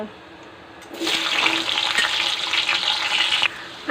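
Potatoes hit hot oil in a pan of chana and aloo curry, a sudden loud sizzle that starts after a near-silent second and holds steady, bubbling and crackling for a few seconds before cutting off.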